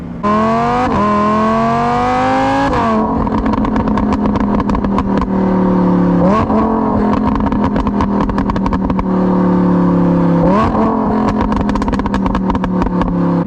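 A Lamborghini Huracan EVO fitted with a RYFT exhaust roars loud and close, its engine note climbing in repeated rev sweeps with sharp shifts between them and a rapid crackle running over the steady howl.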